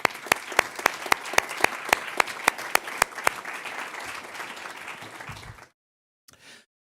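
Applause at a board of education meeting for a staff member: a room of people clapping steadily, with a few sharp, close individual claps standing out, fading out after about five and a half seconds, then a brief faint sound.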